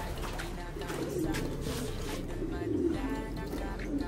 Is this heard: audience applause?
no